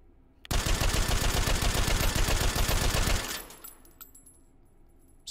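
Suppressed Lahti M26 machine gun fired in the VR game H3VR: a dense, loud sustained burst of rapid automatic fire lasting nearly three seconds, then ending abruptly into quiet with faint mechanical clicks and handling noises.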